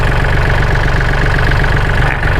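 An original-engine Kubota tractor, registered in 2015, idles close by with a steady, even low chugging pulse, loud and continuous without talk.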